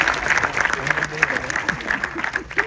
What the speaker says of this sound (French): Donc on peut l'applaudir pour les cascadeurs.